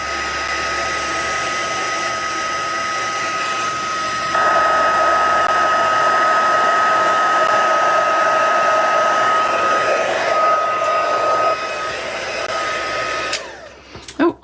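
Handheld heat tool blowing hot air to melt embossing powder on a papercraft card, a steady whirring fan roar that shifts pitch midway and cuts off near the end.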